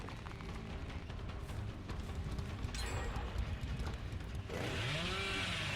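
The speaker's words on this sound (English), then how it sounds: "we should be able to get a chainsaw here" A chainsaw revs in the video game Dead by Daylight amid game ambience, its buzzing whine building and swelling louder toward the end.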